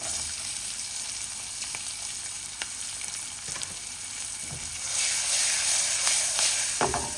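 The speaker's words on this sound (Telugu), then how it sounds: "పోపు బాగా వేగాలి." Green chillies and onions sizzle and crackle steadily in hot oil as tempering for pepper rasam, a constant frying hiss with occasional sharper pops, growing a little louder toward the end.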